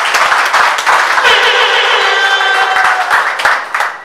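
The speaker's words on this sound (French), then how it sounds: "Merci d'applaudir pour eux" Guests in a hall at a civil wedding in Gabon clap for the couple, a close, fairly loud burst of scattered hand claps mixed with overlapping crowd voices and calls, tapering off at the end.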